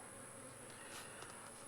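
Honeybees around a small mini mating nuc used for queen rearing give off a faint, steady buzzing hum that holds evenly throughout, with no voices.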